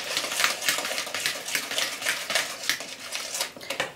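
Dough ingredients with baking powder are mixed in a bowl for Oreschki cookies, a brisk, rhythmic run of clicking and scraping utensil strokes against the bowl, close and steady with no talk.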